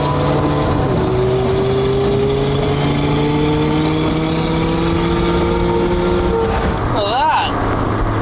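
A Lamborghini Murcielago engine holds a loud, steady droning tone with layered harmonics that drift slightly, then a brief wavering surge near the end, with voices underneath.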